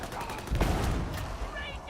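Gunfire in a video game, a short burst of rapid shots with a heavy thump in the middle, at moderate level against game background noise.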